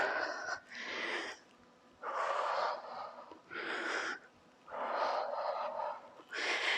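Someone exhales forcefully during a home workout, six or so hard, breathy blows in a steady rhythm, close and fairly loud with short pauses between them.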